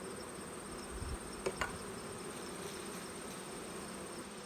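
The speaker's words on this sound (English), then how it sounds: "I've dumped my bees in, and the forager bees, the older bees, will fly off." Honeybees dumped into a tub hum in a soft, steady drone up close, with a couple of brief sharper buzzes as individual bees pass near.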